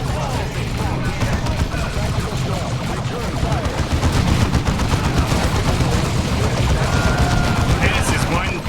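Gunfire and a grenade explosion in the strategy game Warhammer 40K Dawn of War 2, with continuous loud rattling shots and booming blasts packed into a dense, unbroken battle din.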